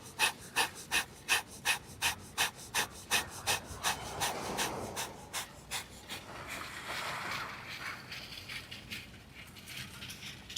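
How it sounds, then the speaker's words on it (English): Yoga breath of fire: rapid, rhythmic forced exhalations through the nose, pumping evenly at about two per second, close and loud at first, then blending into a softer, hurried rush of breathing. "We're here with that breath of fire, pumping that navel, stimulating the organs."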